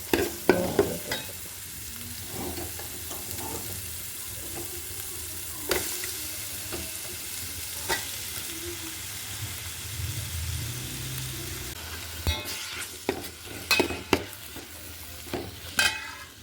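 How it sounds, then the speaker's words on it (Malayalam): Ginger and garlic sauté in a hot pan, a soft continuous sizzle close by, broken by scattered scrapes and clinks of a spoon stirring, with no voices. "ഇഞ്ചി വെളുത്തുള്ളി വാടിക്കൊണ്ടിരിക്കുക."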